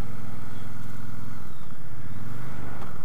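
A Triumph Bobber motorcycle engine runs with a steady throbbing rumble while riding, its pitch dipping and shifting midway as a gear change comes through, heard up close without talk.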